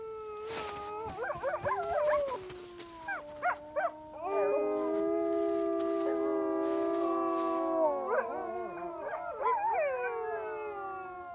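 A pack of wolves howls in the wild, several long rising and wavering howls overlapping in chorus with short yips and whimpers, close and clear, with no talking.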